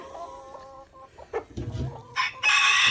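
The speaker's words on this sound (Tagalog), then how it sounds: "Yan ang mga Bicolanong manok." Bicolano chickens cluck and crow in a yard, with a rooster's crow rising loudly at the end over steady nearby clucking and soft farm background noise.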